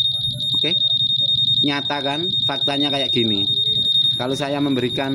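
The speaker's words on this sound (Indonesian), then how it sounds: "Bunyi anti maling lek sepeda itu goyang itu buzzer" A motorcycle anti-theft alarm buzzer sounds as a steady high-pitched beeping tone throughout, close and loud, while someone talks over it.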